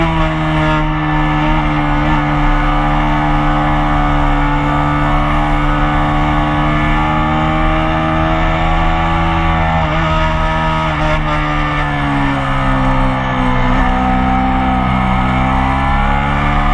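A Yamaha R3 race motorcycle is ridden on a track, its engine droning continuously and loudly with a buzzy harmonic tone that rises and falls slightly in pitch as the rider works the throttle. No voices are heard.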